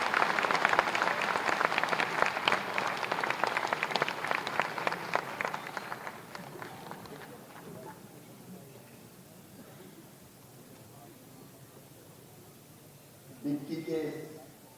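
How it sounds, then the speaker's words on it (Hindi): An audience at an SC-ST business conclave applauds to welcome the chief minister, loud sustained clapping that fades over several seconds, followed by a brief burst of sound near the end. "तालियों की गड़गड़ाहट में उनका स्वागत होना चाहिए"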